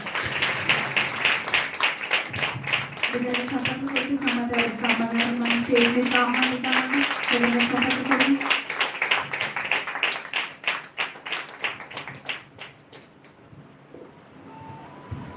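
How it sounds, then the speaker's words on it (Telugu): Clapping from an audience gathered at a women's church meeting, welcoming a speaker: dense, steady applause lasting several seconds under an overlapping voice and sustained tones, then thinning out toward the end. "మీరు అందరూ కూడా మరి చప్పట్లతో అమ్మగారిని స్వాగతిద్దాం"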